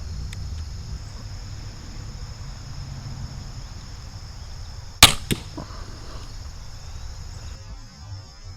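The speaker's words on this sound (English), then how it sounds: "this is the broadhead, shooting at the box target on the right with the yellow square, 20 yards" A broadhead-tipped arrow from a Barnett Blackcat Recruit crossbow strikes a box target at 20 yards with one sharp, loud smack and a brief rattle, against a steady outdoor insect-like hiss.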